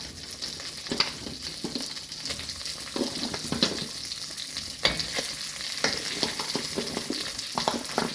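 Beef pieces returned to a pot for beef stew, frying with a steady close sizzle and crackle, broken by a few sharper pops and stirring knocks throughout.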